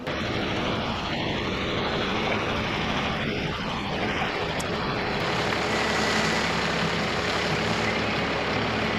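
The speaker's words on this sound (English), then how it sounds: "The boom hoist right there." A steady, loud mechanical drone of a boom truck's hoist running, a continuous engine-and-hydraulic rumble with a deepening low end partway through, heard outdoors with no talking.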